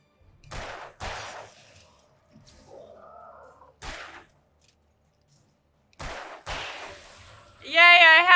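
Gunshots in the horror game Alan Wake 2: several sharp, punchy shots spaced irregularly, some in quick pairs, with quiet gaps and a faint low murmur between them, ending in a bright warbling electronic tone.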